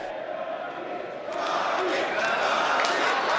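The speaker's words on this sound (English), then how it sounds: "An overflow crowd here at the Bay 101. They're chanting out in the other rooms." An overflow crowd of locals at the Bay 101 poker tournament chants a player's name from adjoining rooms, a dense, rising wash of massed voices that swells louder partway through and keeps going.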